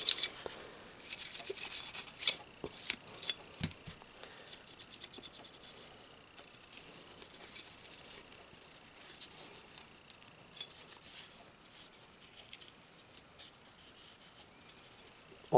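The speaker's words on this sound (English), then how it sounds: "So in my frame rails and on the corners next to the frame rails, I'm just brushing it out" A brush scrubs along the frame rails and corners of a semi-automatic pistol during cleaning, giving soft, quiet, irregular scratchy strokes in bursts, close up and with no talking.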